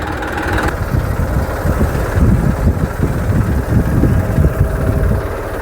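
A tractor engine runs steadily in a farm field, a loud low rumbling drone with wind buffeting the microphone throughout.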